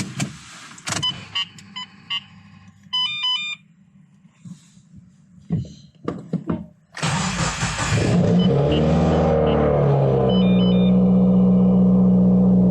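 A car engine cranks and catches after a battery replacement, settling into a steady idle, preceded by a run of dashboard chimes and beeps in a quiet cabin.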